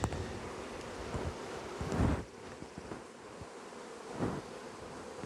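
A steady buzzing hum of many honeybees fanning at a hive fills the air close by, with soft wind gusts brushing the microphone.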